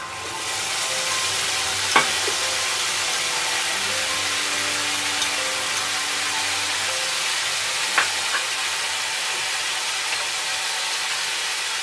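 Nigella seeds tempering and mustard paste frying in hot oil for Bengali tel koi give a steady, close sizzle, broken by two sharp clicks, with no talking.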